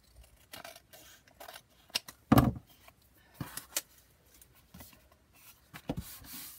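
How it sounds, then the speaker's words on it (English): Scissors trimming paper for a handmade junk journal, a few short separate snips and rustles with quiet gaps between them, one louder crisp cut in the middle. "Trim it before you glue."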